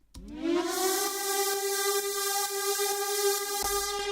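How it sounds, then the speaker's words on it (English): A synthesized siren tone swells up quickly and then holds a bright, steady wail, with faint clicks and noisy bursts underneath. "I also have the siren in the intro."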